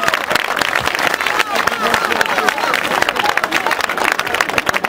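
A live outdoor concert audience in a town square applauding, dense clapping and crowd noise throughout, with voices and shouting mixed in.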